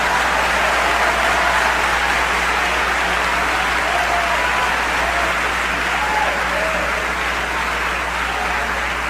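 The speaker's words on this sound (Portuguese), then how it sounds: "Aplaude ao Senhor, aplaude ao Senhor." A congregation in a church service applauds continuously, a dense, loud clapping wash that holds steady throughout with a low hum beneath and no speech on top.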